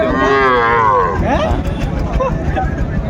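A loud, drawn-out cow moo right up close, followed by quieter lowing and faint bustle from the surrounding crowd at a cattle farm in Narayanganj with small bulls and heifers.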